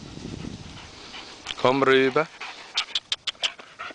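A dog breathes and pants close by, with a short run of quick rhythmic breaths followed by a few sharp puffs, while someone speaks commands to it.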